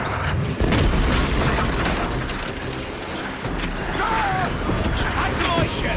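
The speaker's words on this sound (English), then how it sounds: "Mortars! Look sharp!" Mortar fire from ships in the naval combat of the video game Assassin's Creed Black Flag, heavy booms and rumbling blasts repeating across a dense battle din, with shouting voices mixed in.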